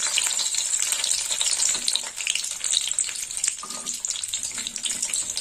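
Cashews and raisins fry in hot ghee with a constant bright hiss and crackle, close and steady throughout, with occasional light stirring.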